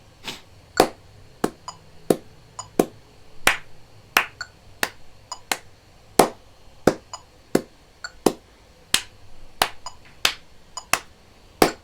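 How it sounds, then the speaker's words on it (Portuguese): Sharp, distinct hand claps sound alone in an evenly spaced polyrhythmic pattern, alternating lower, duller claps with higher, brighter ones, close and clear against a quiet background. "Então eu vou mostrar somente as palmas."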